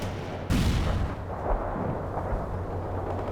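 Battlefield gunfire in the video game World in Conflict, a sharp burst followed by a steady wash of shooting and distant booms, loud and continuous with no speech.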